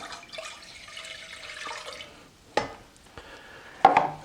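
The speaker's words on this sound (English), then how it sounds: "Let's get the beef broth in." Beef broth poured into a cooking pot, a soft liquid splash and trickle running for a couple of seconds, followed by a few sharp knocks of the pot or container, close and fairly quiet.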